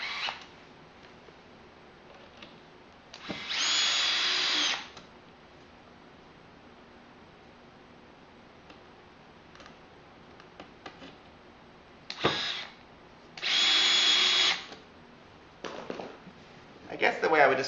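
A power drill drives screws while a craft cart is assembled, with two buzzing bursts of a few seconds each and a brief one between them, over a quiet background.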